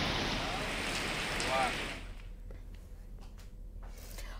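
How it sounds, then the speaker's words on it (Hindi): Rushing water from the Gira waterfall, swollen and overflowing after heavy rain, roars as a dense broadband wash for the first two seconds, then gives way to quieter outdoor noise. "बारिश की वजह से वो ओवरफ्लो हो रहा है।"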